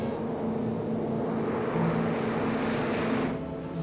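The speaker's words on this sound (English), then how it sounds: "Reeve 8 is off the ground" An airliner takes off, its engines making a steady broadband roar with a droning tone that swells slightly before fading back near the end.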